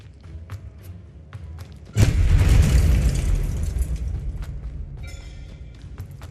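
A Bombarda spell in Hogwarts Legacy goes off as one loud, booming explosion that slowly rumbles away into quieter ambience, with faint game sounds before and after.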